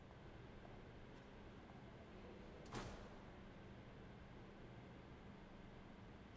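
A door opening in the video game Stray Gods, heard as a single soft whoosh-like sweep standing out briefly from a steady low hiss of background noise.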